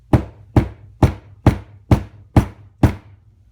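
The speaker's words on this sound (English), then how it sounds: "And then hit the motherfucker with a hammer." A rubber hammer taps a Wiseco piston onto a Manley connecting rod for a turbocharged K24 Honda Accord engine: seven evenly spaced, close, solid thuds, each with a short ringing tail.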